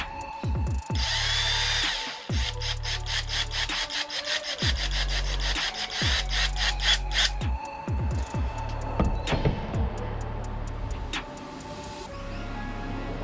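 A power drill whirs in repeated bursts while drilling a homemade topwater fishing lure, spinning up and down several times, with scraping and rattling tool noises between runs, close and loud.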